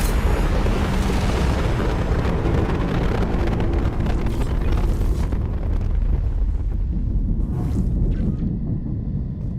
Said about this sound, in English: Did we just nuke it? It just evaporated.